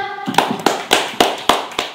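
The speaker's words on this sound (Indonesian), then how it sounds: "Oke, boleh tepuk tangan lagi teman-teman?" A few sharp claps at a digital marketing workshop, in a slow, regular rhythm, about one every quarter second, close and fairly loud with no talking.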